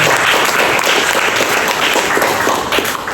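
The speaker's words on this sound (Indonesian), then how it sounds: "Berikan tepuk tangan kita untuk Tuhan." A church congregation at a prayer fellowship service breaks into sustained, dense applause that fills the room evenly from start to finish.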